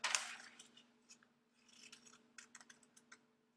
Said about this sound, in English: Take some scissors,